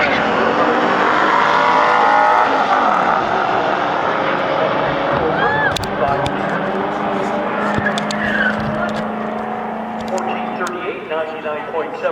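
1993 Ford Mustang Cobra launching at a drag strip, with loud engine roar and tire noise that slowly fades as the car pulls away, while crowd voices and nearby talk carry on over it.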